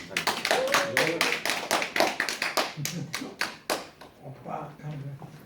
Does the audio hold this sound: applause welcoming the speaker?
yes